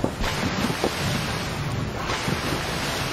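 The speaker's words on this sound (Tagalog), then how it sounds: "napakalakas na ng hangin at ng mga alon" Strong wind buffets the microphone over a roar of crashing ocean waves around a ship at sea, loud and steady with periodic surges.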